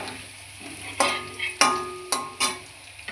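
Potatoes fry in a pan, a steady close sizzle punctuated by four or five sharp scraping clatters as they are stirred and turned.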